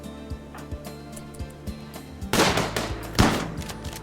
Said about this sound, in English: The colonists keep on firing.